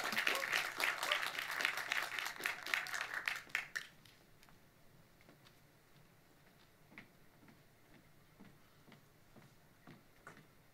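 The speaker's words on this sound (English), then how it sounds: "I think clapping is good for your health, right?" Audience applause at a graduate thesis symposium, dense clapping for several seconds that quickly thins to a few scattered claps.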